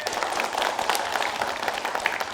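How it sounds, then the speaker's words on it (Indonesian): An audience at a children's preaching competition show applauds for the Habib, a steady, dense patter of many hands at moderate volume, with a few sharper claps standing out. "Tepuk tangan buat Habib."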